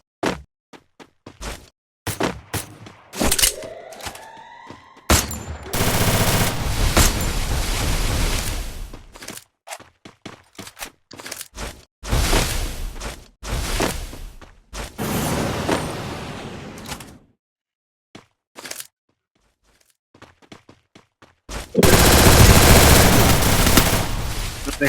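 Bursts of video game gunfire, including a headshot, crack out in sharp single shots and rapid automatic volleys, loud and close, separated by short pauses, with a few longer sustained stretches of firing.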